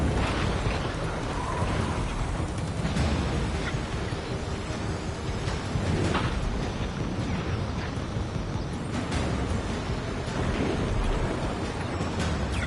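Missile explosions rumble through a dense, continuous roar of jet engines and combat noise in the Ace Combat 7 flight game, with heavy bursts swelling repeatedly amid the loud, unbroken din.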